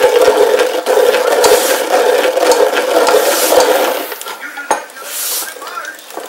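Blended red chile is stirred and pressed through a metal strainer, giving close, loud scraping and clinking of a utensil against mesh and bowl in uneven strokes, with no talking.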